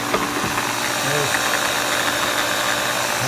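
Handheld power drill boring slowly into oak, a steady low motor whine with a rough grinding rumble underneath, close and fairly loud throughout.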